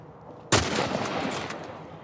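A single loud rifle gunshot from The Last of Us Part 1 cracks sharply after a quiet moment, followed by a long rolling echo that fades slowly.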